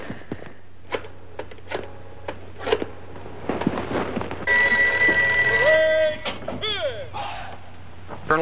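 A telephone is dialed and then rings in a tense office scene from a killer-snake horror film, with a steady ringing tone midway, some clicks and thumps around it, and people speaking before and after.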